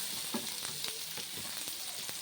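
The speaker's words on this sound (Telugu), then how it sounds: "టమాటా వేగుతూ ఉందండి" Tomatoes fry in a pan with a soft, steady sizzle and crackle. Occasional light taps and scrapes sound over it, all fairly faint and without voices.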